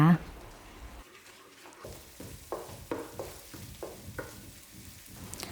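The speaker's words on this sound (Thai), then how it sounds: "เคี่ยวพริกแกงนะคะกับกะปิละลายให้เข้ากันเคี่ยวไปเรื่อยๆ นะคะ จนกระทั่งกะทินะคะแตกมันนะคะ" Curry paste and shrimp paste simmer and fry in coconut milk for a Thai pork curry with eggplant, a soft sizzling crackle with stirring scrapes, accompanied by someone talking.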